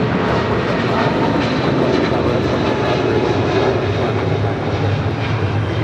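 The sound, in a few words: United Airlines Boeing 777-200 jet departing to Newark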